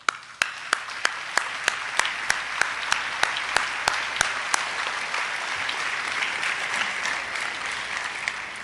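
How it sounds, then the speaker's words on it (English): A crowd applauds steadily for several seconds, with a few sharp, regular claps standing out near the start before the clapping continues as an even wash. "Let's give them a round of applause."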